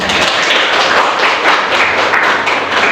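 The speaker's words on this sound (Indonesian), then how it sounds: "Oke, tepuk tangan." A classroom of students clapping their hands together in a fairly close, dense burst of claps with uneven rhythm that lasts a few seconds.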